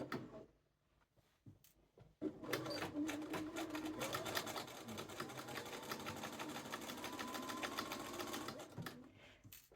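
A sewing machine stitches binding onto a sleeve cuff through a couple of layers of fabric at a 3 mm stitch length. After a short quiet start, it runs as a steady, close, continuous mechanical whir with rapid needle ticking.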